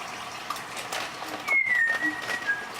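A pet bird makes soft whistling, cooing noises indoors: a brief chirp, then a drawn-out descending whistle and a couple of short notes, faint over a steady room hiss.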